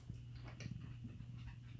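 Bailey, a household dog, pants steadily in short rhythmic breaths with faint whimpers mixed in, close by and quiet, with no voices over it.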